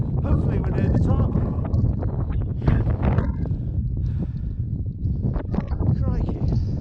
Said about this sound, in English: And that wind is just stronger than it looks.